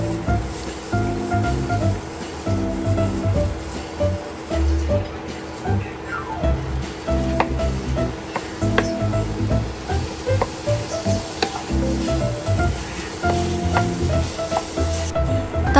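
Ground beef sautéing in a pan with softened onion and garlic, a steady close sizzle with occasional stirring scrapes running throughout, low background rumble beneath.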